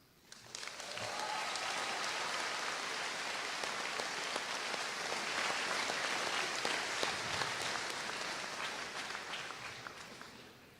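A high school graduation crowd applauds after a group of honor students is introduced. The clapping swells quickly and stays broad and steady for about ten seconds, then thins toward the end.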